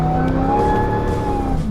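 A Jeep Gladiator pickup truck engine hums and revs steadily with a deep, throaty drone, close and continuous through the short stretch.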